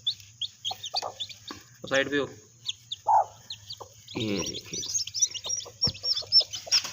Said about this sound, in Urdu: مرغی نے ماشاءاللہ بہت ہی خوبصورت چیکس نکالے ہیں